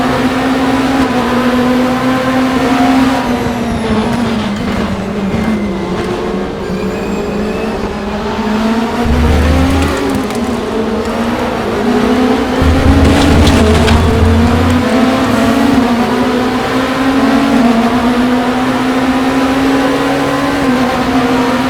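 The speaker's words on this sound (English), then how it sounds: "that's how a race car should sound" Lamborghini LMDh prototype race car in the RaceRoom sim racing game, a loud continuous engine note rising and falling through gear changes over a full lap, with no voices.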